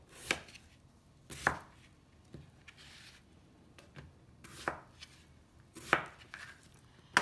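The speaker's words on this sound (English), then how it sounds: "So in 4 pieces we're going to cut our potato." A knife chops through a potato on a cutting board, cutting it into four pieces: a handful of sharp, separate cuts spaced about a second apart, each a crisp thunk against the board, close and clear with no voice.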